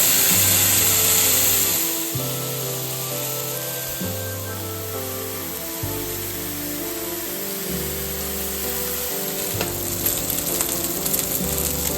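A smashed burger patty sizzles loudly on a hot griddle, a close, continuous frying hiss with crackling spits, alongside steady droning tones shifting in blocks throughout.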